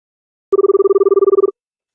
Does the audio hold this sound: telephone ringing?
yes